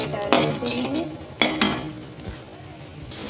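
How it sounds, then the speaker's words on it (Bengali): Browned onion and garlic tipped into a pot of dal, heard as a few sharp metallic clanks of utensil on pan with a brief splashy rustle, close and moderately loud with no voices. "পেঁয়াজটা আর রসুনটা বাদামি কালার হয়ে আসছে, আমি এটা ডালে দিই।"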